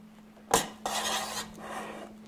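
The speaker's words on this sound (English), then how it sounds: "Going to use an offset spatula just to kind of smooth this around." An offset spatula spreading cream over a chocolate tiramisu cake in a pan, with a sharp metallic tap followed by two soft, close scraping strokes of smoothing.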